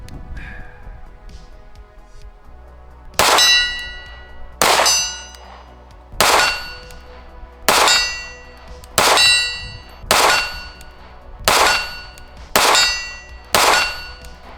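A Cosaint COS21 3.5-inch ported subcompact pistol fires at a steel target 40 yards away, producing nine loud, ringing metallic clangs at a steady pace, each fading out before the next, with no talking.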